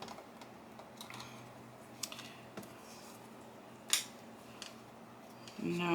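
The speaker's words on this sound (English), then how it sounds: "Let's round the corners and make this a journaling card, just so it has a purpose." A corner punch rounds the corners of a patterned paper card for a journaling card, giving soft scattered clicks and paper rustles with one sharp snap midway, all quiet and close.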